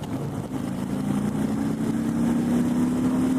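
A 2018 Harley-Davidson Fat Boy 114 motorcycle engine drones steadily while riding, a low continuous rumble with a slowly rising tone, close and fairly loud, with wind noise and no talking.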